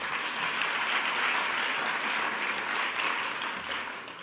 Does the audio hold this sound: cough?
no